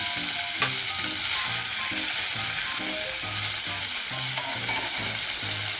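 Dantu soppu greens cooking in a pan for soppina huli, a loud, steady sizzle and hiss with a rhythmic stirring scrape repeating throughout, no voices.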